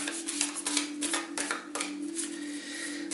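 A Wild Unknown Animal Spirit card deck is shuffled by hand, making soft, quick papery riffles and rustles in bursts, close and quiet over a steady low hum, with no talk.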